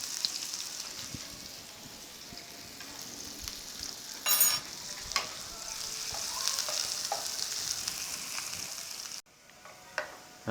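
Onions lightly browning in a pan, a continuous close sizzle with occasional scraping stirs and brief louder flare-ups, then a sudden drop near the end.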